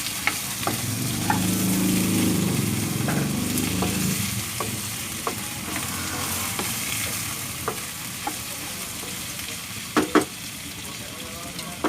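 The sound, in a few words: sautéing onion and garlic with chicken for adobo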